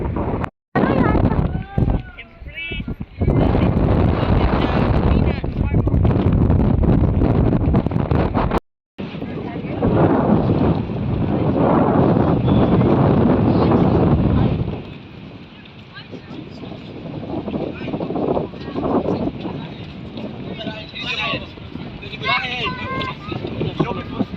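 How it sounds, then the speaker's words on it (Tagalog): Strong wind buffets the microphone in loud, roaring gusts at Trafalgar Square, London, dropping out briefly, then easing to a softer rush with faint voices in the background. "Lakas ang hangin."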